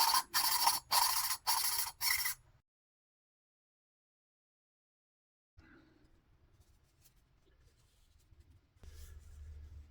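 Quick back-and-forth scraping bursts from lapping a VW cylinder head valve with a suction cup tool, rhythmic and close at first, then silence, followed by fainter scratchy grinding strokes.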